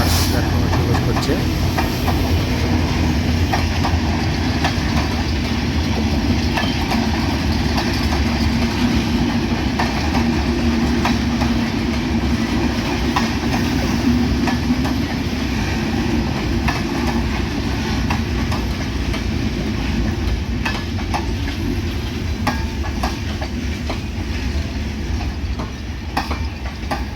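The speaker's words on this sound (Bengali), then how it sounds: "ঢাকা থেকে ছেড়ে আসা পঞ্চগড়গামী পঞ্চগড় এক্সপ্রেস সান্তাহার রেলওয়ে জংশনের 2 নম্বর প্ল্যাটফর্মে প্রবেশ করছে।" Panchagarh Express, an Eid special train out of Dhaka, rolls into platform 2 at Santahar railway junction with a steady, loud rumble of coaches and wheels over the rails that runs unbroken throughout.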